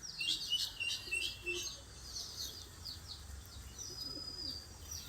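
Ordinary pigeons bought from a pet shop, with soft chirping and high tweeting calls repeating through a faint, steady background, no voices.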